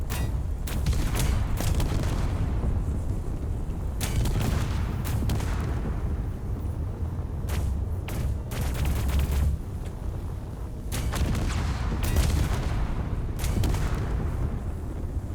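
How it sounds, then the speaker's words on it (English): Repeated explosions of spaceship thrusters in the space-building game Starbase, a steady barrage of heavy booms and crackling blasts with irregular louder bursts, loud throughout with no talk. "Thrusters explode."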